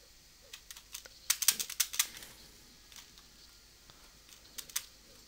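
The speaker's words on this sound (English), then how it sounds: "Oh, my keyboard's so loud." Loud computer keyboard typing during a video game boss fight: sharp, close clicks come in irregular bursts, densest in a quick flurry near the middle, with quieter scattered keystrokes before and after.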